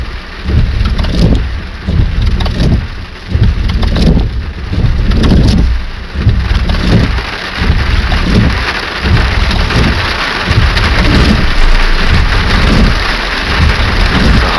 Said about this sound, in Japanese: 雨がさ、なんか叩きつけるような雨だよね。